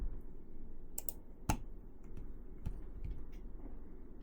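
Quiet, sparse clicks of typing on a computer keyboard, a few soft keystrokes scattered over a few seconds in a hushed room.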